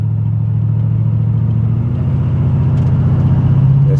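A 455 big block G-body car cruising on the interstate, a steady loud low engine drone with road rumble from inside the cabin, rising slightly in pitch toward the end.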